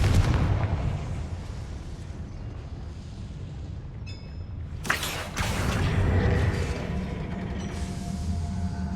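Confringo fire spell in Hogwarts Legacy gameplay bursting into a loud explosion midway, over a steady rumbling game soundscape with a deep low hum and no speech.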